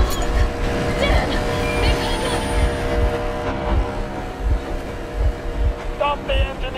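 A boat engine in Metro Exodus runs steadily throughout, a low continuous drone with rhythmic low thumps, while wind noise and background ambience sit around it.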